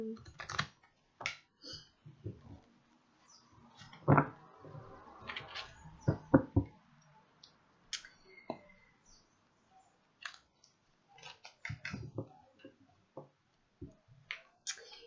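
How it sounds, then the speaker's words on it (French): Tarot cards shuffled by hand during a reading, a sparse series of crisp, close snaps and flicks separated by quiet pauses. "Je commence à mélanger un peu les cartes."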